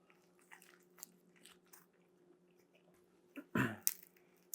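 Someone bites into and chews a crunchy Neapolitan pizza crust made with 00 flour at 65% hydration, giving one loud close crunch and a few softer chewing sounds after a quiet stretch of faint background noise.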